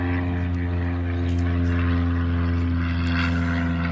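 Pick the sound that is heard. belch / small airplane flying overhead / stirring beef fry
small airplane flying overhead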